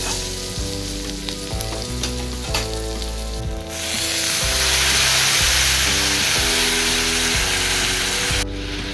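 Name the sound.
ginger and green chili paste frying in a pan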